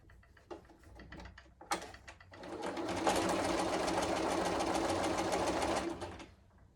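Sewing machine stitching small log cabin quilt pieces without pins, starting with a few short bursts, then a steady, loud run of rapid stitching for about three seconds before stopping.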